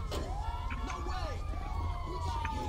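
An ambulance siren from GTA 5 wails in rising and falling sweeps, moderately loud over a low rumble of traffic and engine noise.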